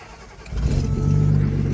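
A 1976 Datsun 280Z cranks and fires, settling into a steady, close, loud idle with a low rumbling pulse after a brief starter whir.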